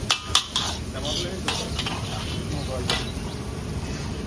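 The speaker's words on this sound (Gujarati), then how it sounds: "આ થોડીક વાર હેકવાનું છે મસાલો હેકાઈ ગયો છે" Samosa masala roasting in a pan while being stirred makes a loud, close sizzle with repeated scraping and clinking of a spoon against the metal, continuous throughout.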